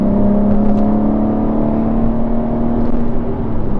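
BMW M3 G80 sports sedan accelerating, a steady close engine whir with a rising tone heard from inside the car, continuous for a few seconds.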